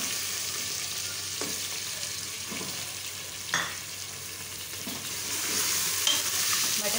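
Mutton fries in a pan with onion and garlic-ginger paste, a steady close sizzle punctuated by occasional spoon scrapes and clinks as it is stirred, the sizzling growing a little louder toward the end.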